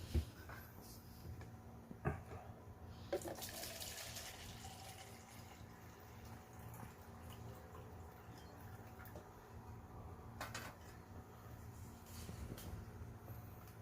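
Liquid pours steadily into a bottle with a fish-sauce-style stopper, a continuous low trickle and gurgle with a few brief clatters, fairly faint and with no talking.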